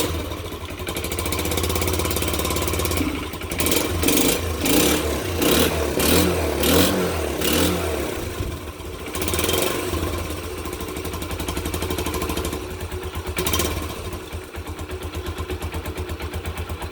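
A 1984 Honda CT110 motorcycle engine idles steadily after a kick start, loud and close, with a few sharp throttle blips and revs breaking the steady small-engine putter; no one speaks.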